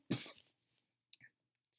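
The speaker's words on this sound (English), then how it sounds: "I don't know why I'm coughing." A single sharp cough from a woman with a tickle in her throat, close and abrupt, followed by a couple of smaller throat sounds and breaths.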